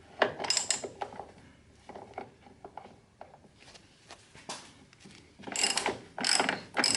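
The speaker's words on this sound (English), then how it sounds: "So I got my socket and bolt here, and let's just go ahead and loosen them up." A socket wrench loosening 13mm bolts on a 2007 Mini Cooper S front strut, quick bursts of close ratcheting clicks separated by pauses and small metallic knocks.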